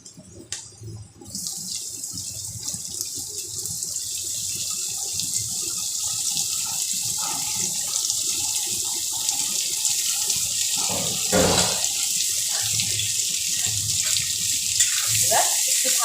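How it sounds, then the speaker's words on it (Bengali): Boiled potato and radish tipped into onions frying in a pan for a Bengali puti fish with radish dish give a steady, close hiss of sizzling that holds throughout, with a brief clatter near the start and no talk. "পেঁয়াজটা একটু নাড়াচাড়া দিয়ে আমি যে আলু আর মূলাটা সেদ্ধ করে রেখেছিলাম সেটা এবার আমি এর মধ্যে দিয়ে দিই।"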